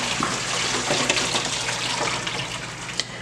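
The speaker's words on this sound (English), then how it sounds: "So what I'm gonna do now is pour my water off" Hot water is poured off boiled eggs into a sink, a continuous splashing gush with a few small clunks, close by and with no talking.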